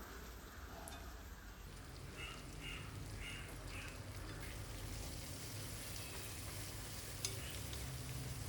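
Sliced onion, green chilli and curry leaves sauté in a pan with a faint, steady sizzle and soft stirring scrapes, heard from a distance with no speech.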